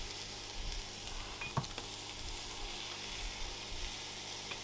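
Chicken stir-frying in a pan with oyster sauce and brown sugar gives a steady, close sizzle with soft scrapes and stirring clatter, plus one brief sharper clink near the middle.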